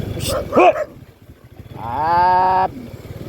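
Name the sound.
dogs barking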